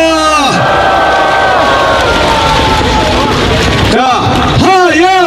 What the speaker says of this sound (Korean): 우리 이정민 장군님께 박수 한번 주시기 바랍니다.